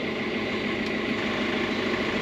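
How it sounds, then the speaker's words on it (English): A sailboat's starboard inboard engine runs in forward gear, a steady low diesel drone with constant vibration, close and unbroken, no voices over it. "I'm going to go with the starboard engine forward."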